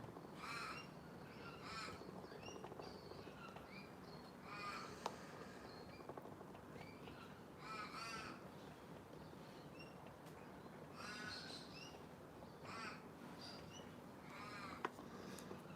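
A talking magpie that mimics other birds gives repeated harsh, chattering calls in short bursts a few seconds apart. It sounds moderately distant over a quiet outdoor morning background.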